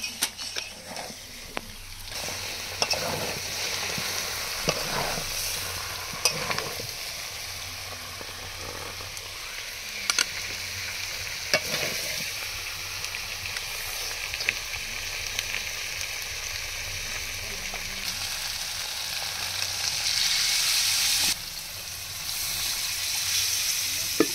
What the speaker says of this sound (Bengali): সব মশলা দিয়ে মাংস কষিয়ে নিয়েছি